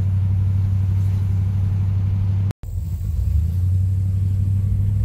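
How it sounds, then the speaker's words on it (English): A 1971 Cadillac Coupe DeVille's engine drones steadily from inside the car while driving, a low continuous rumble with a brief dropout midway before the hum resumes. "Well, the engine seems to be running fine."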